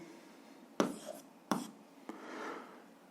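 A pen writes on paper while an algebra exercise is worked out, giving a few quiet, scratchy strokes in short bursts over a soft background hiss.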